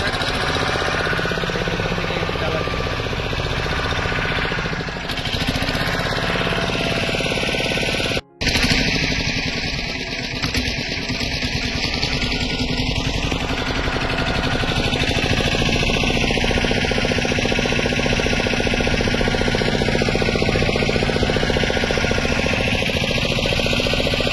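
A motor boat's engine drones loud and steady as the boat pulls away toward an island at Digha, with a brief dropout partway before the rough, throbbing running sound resumes.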